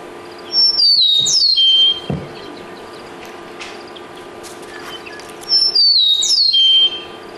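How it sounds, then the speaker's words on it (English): Two bright, slurred whistled songs of an eastern meadowlark, each about a second long and several seconds apart, ring out clearly over a steady low hum of background noise. "So here's the eastern meadowlark."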